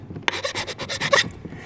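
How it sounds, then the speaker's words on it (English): A crosscut file rasps across a wooden AK rifle stock being fitted to a new receiver, a quick run of about six close, scratchy strokes in a steady rhythm. "As far as filing, you're going to want to use the crosscut side."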